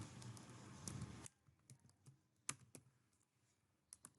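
Typing text on a computer keyboard: a dense burst of fast keystrokes at the start, then scattered single key clicks, quiet and close, without speech.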